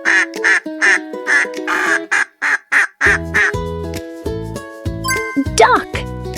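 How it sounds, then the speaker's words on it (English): A duck on a pond quacks in a quick run of bright, close calls, and then a bouncy jingling tune with steady bass plays on its own. "Duck"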